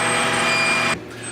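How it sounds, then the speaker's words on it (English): An Indutherm VC 480V fully automatic vacuum casting machine pulls vacuum on its chamber while melting metal, a loud steady mechanical hum and hiss that cuts off abruptly partway through, leaving a quieter low drone. "we're going to press start, which is now it's going to pull vacuum on the chamber"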